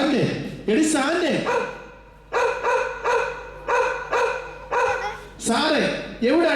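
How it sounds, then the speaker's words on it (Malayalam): Repeated dog barks in a family comedy skit come in a steady series of loud, close yelps, with people talking around them. "എവിടാണ് ഈ പട്ടി കിടന്ന് കുറയ്ക്കുന്നത്?"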